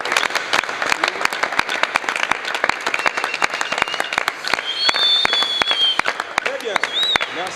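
A church audience claps and cheers for the choir Source de vie, dense rhythmic applause throughout with voices calling out and a few whistles on top.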